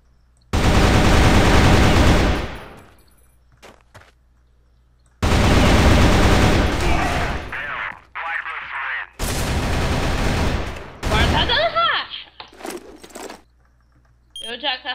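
AK rifle gunfire in the Crossfire video game: three loud sustained automatic bursts separated by short silences, with voices talking in the gaps between volleys.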